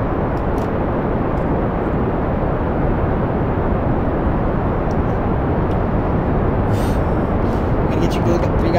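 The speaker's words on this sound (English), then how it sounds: "Get our throttle going. And let's lift off." Rocket lift-off in Kerbal Space Program, heard as a loud, steady, broadband engine roar that holds unchanged across the whole stretch.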